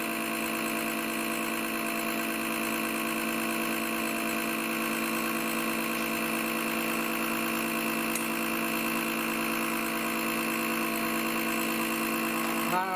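A pump runs during an automatic transmission fluid change on a 2016 Mini Countryman 1.6, giving a steady, loud, unbroken mechanical hum with a high whine, continuous throughout and alone.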